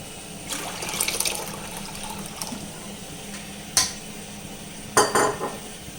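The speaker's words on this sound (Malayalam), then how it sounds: "അപ്പോൾ നമുക്ക് കുറച്ചും കൂടെ വെള്ളം ഒഴിച്ചു കൊടുക്കാം ഇതിനകത്തേക്ക്." Water poured into a pot of cassava and stirred for cassava fufu, giving soft splashing and scraping with sharp clinks of utensil against the pot, two louder knocks near the end.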